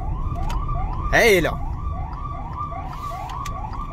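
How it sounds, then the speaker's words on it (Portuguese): An emergency vehicle siren wails in quick, repeating rising sweeps, steady and moderately near, while someone says a few words briefly over it. "Tô escutando sirene aqui, eu acho que é ele."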